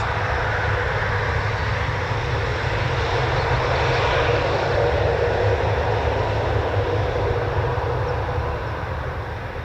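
A heavy military aircraft, such as an A330 Voyager tanker, at RAF Brize Norton, its engines giving a loud continuous jet roar that swells and stays strong throughout, close by.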